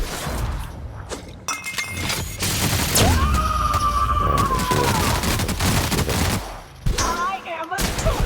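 Rapid bursts of video game gunfire crack through a shootout, dense volleys and shattering impacts running nearly nonstop with a short lull near the end.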